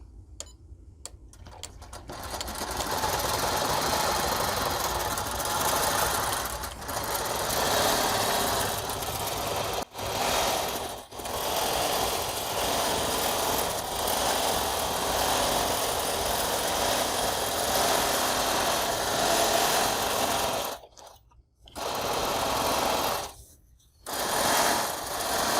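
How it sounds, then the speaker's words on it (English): A longarm quilting machine runs steadily while stitching a straight line at six stitches per inch, a continuous motorized whir with brief stops and restarts near the end. "I'll turn my machine on, and I'll create my straight stitching line."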